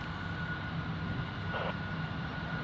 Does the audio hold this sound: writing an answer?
no